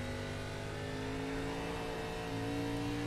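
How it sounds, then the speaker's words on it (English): A Porsche 951 race car in a sim racing game accelerating hard on full throttle out of the carousel at Watkins Glen, a steady loud engine drone with sustained harmonics and a slight pitch shift, no talking. "As we hear the 951 getting on the throttle hard out of the carousel"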